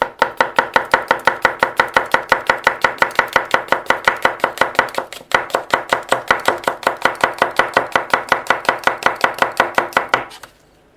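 A thin Yoshimi kitchen knife slices repeatedly through apple skin, about fifty crisp, evenly spaced cuts in a fast steady rhythm, close and clear, with no voices.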